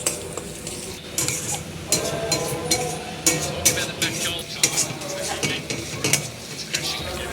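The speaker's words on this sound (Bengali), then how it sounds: "এখানে আমি পরিমাণ মতন আদা রসুন পেস্ট করা ছিল এটা আমি দিয়ে দেবো" Onions frying with ginger-garlic paste in a pan: steady close sizzle with a spatula stirring and scraping in irregular strokes, and occasional light metal clinks throughout.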